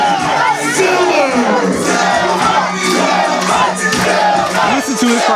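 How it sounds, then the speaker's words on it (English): A large wrestling event crowd at the MPX Texas Rumble cheers, shouts and whoops loudly and continuously after the winner is announced, filling the arena with dense, roaring noise. "Listen to this crowd here."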